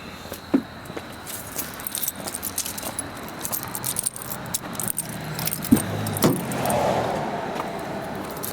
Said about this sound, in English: Gonna start her up.